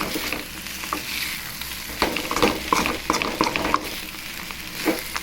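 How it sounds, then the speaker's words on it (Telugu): Okra and peanuts frying in a pan are stirred steadily, with a constant sizzle beneath irregular scraping and clacking of the spoon, close and fairly loud. "ఈ విధంగా కలుపుతూ ఉండాలి"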